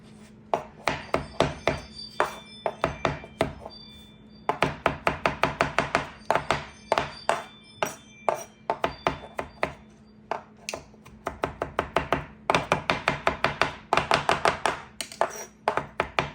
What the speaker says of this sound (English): chop it really fine, get the stems off